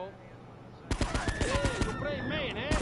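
Gunfire in GTA, a video game: a rapid burst of sharp shots breaks out after a quiet moment, with a voice talking over and between the shots.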